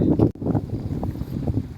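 Gusty wind at a riverside fishing spot around sunset rumbles and buffets close to the microphone, a steady low roar with uneven surges and one brief dropout, with no speech.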